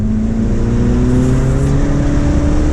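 A tuned Mini Cooper JCW F56 with a Dinan Elite Stage 1 tune pulls hard in third gear. The engine drone rises steadily in pitch and stays loud and close for the whole stretch.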